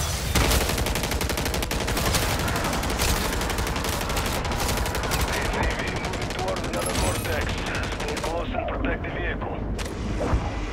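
Dense, nonstop automatic gunfire and explosions from the video game Call of Duty: Modern Warfare 3 Zombies, loud and chaotic, with rapid bursts overlapping throughout.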